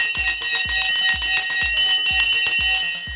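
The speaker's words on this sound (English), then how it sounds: "The bell has gone." A loud bell rings continuously and steadily, sounding alone with rapid repeated strikes and sustained ringing tones throughout.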